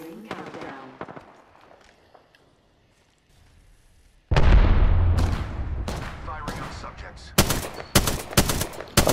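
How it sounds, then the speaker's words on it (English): Automatic weapon fire in the Apex Legends shooter erupts suddenly and loudly after quieter moments, with sustained bursts and sharp rapid volleys near and close, while a player talks. "I don't have no sight, so I'm shooting wildly"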